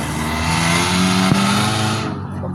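A car engine revs loudly and close by, holding a strong steady roar with a brief sharp peak near the middle before tapering off at the end.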